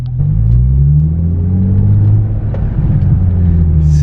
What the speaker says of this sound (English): So funny how similar these all sound because it has like the same engine